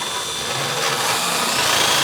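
Power drill boring out and rounding a hole in a metal shell of a homemade griddle jet burner, a steady loud whirring grind that runs unbroken for about two seconds and then cuts off.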